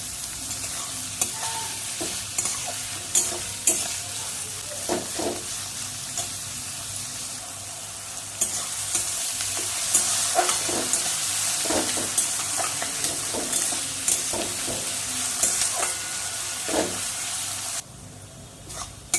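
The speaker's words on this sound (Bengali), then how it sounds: "পেঁয়াজটা দেখো লাল লাল করে ভাজা হয়ে গেছে" Onions with a pinch of salt sizzling steadily in a pan, frying to a reddish brown, while a spoon scrapes and stirs in repeated clinks; close, continuous and without talk.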